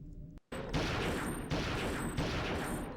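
Sustained rapid gunfire in a video game, full magazines emptied in loud, dense automatic bursts after a brief silence, with short pauses between clips and no talking.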